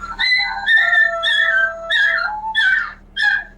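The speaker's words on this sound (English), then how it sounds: "That's my dog. There's a siren out there, so he does this." A dog howls along with a siren in a rising and falling wail, several drawn-out cries with short breaks, close and loud, ending in yippy higher notes.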